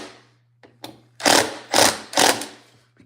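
Power drill driving screws into a cabinet drawer face fixed to a drawer box, three loud close whirring bursts of about half a second each after a couple of short taps, with no talking.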